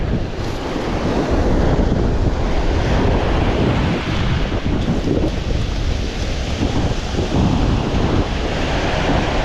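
Ocean waves breaking on Sunset Beach, a loud continuous roar of surf with wind buffeting the microphone, no voices.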